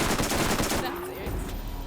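Sniper rifle fire in the shooter game Borderlands, a dense burst of loud gunshot blasts across the first part, then a quieter tail with some game sound.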